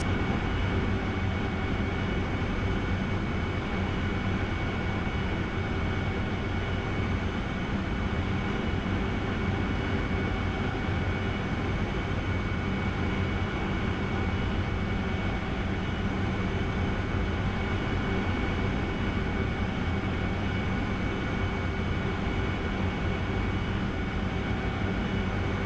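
A Harrier jet's engine in flight in the DCS flight simulator game produces a steady, unbroken roar with a constant whine layered on top, holding the same level the whole time.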